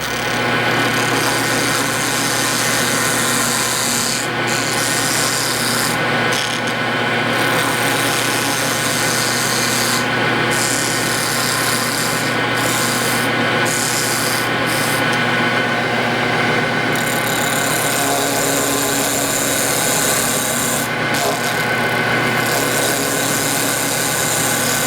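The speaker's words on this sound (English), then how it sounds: "I'll use what's known as a parting tool to establish my initial diameters." A wood lathe turns a tapered midcentury table leg while a parting tool cuts to set the initial diameters, giving a steady close motor hum with a continuous cutting hiss, broken by several brief pauses.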